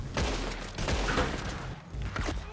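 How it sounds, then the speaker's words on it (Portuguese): Gunfire in the online Western game Red Dead Redemption Online, a burst of loud close shots and rattling reports filling the moment without talk. "Quer dizer, eu sei, foi um tiro, né?"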